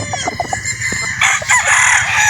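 A Boston Black gamefowl rooster on a game farm crows loudly and close, with clucking around it and other fowl sounds mixed in.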